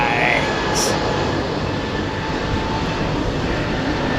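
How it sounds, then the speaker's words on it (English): A Swiss Airbus A320neo airliner passes at Heathrow with a broad, steady engine roar that fills the whole clip, loud and continuous, with a brief faint tone early on. "Nice Swiss 320 Neo"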